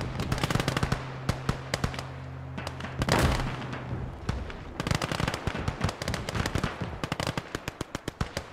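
Mortar fire in the World War II strategy game Call to Arms: Gates of Hell during a trench battle, with a rapid barrage of sharp blasts and crackling gunfire and a heavy boom around the middle.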